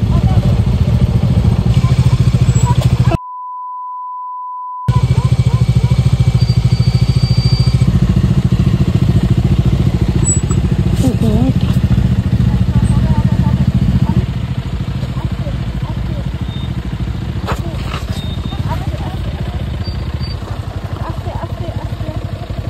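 A motorcycle engine runs steadily close by with rattling and clatter on a ride from Siliguri to Dhotrey, and a voice speaks briefly over the engine noise.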